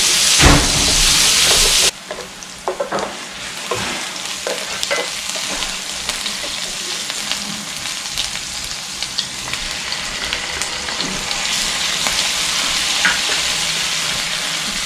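Minced garlic sizzles steadily in a pan holding the cooked-down juices of Salisbury steak ahead of making gravy, with a loud burst at the start and then a constant frying crackle broken by scattered stirring clicks.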